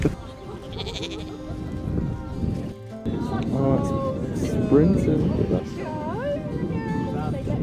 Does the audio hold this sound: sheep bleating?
yes